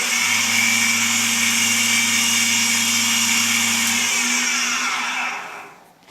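A toolpost grinder spindle spinning at about 6,000 RPM on the larger pulley, giving a loud, steady high-pitched whine with a low motor hum beneath, which winds down and fades near the end.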